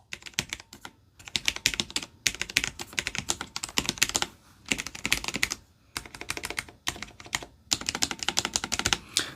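Steady typing on a Cherry MX 10.0N RGB low-profile mechanical keyboard, a fast clicky patter of keystrokes in bursts with brief pauses, close and clear with no talking.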